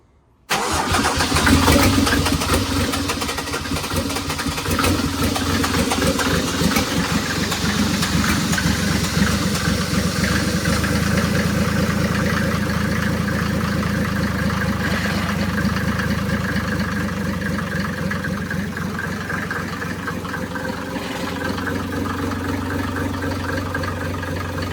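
A turbo diesel OM603 engine swapped into a Mercedes 380SL roadster cranks and catches, then settles into a steady, loud idle, recorded close and alone with no talk.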